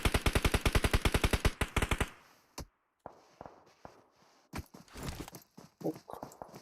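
Rapid automatic gunfire in the mobile battle royale game PUBG Mobile, a fast close burst of about twenty shots followed by scattered single shots and faint footsteps.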